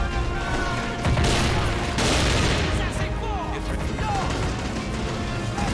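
Grenade blasts and gunfire in the video game Army Men of War: sharp bursts and crashes crackle over a dense battle din, with a couple of strong impacts close together.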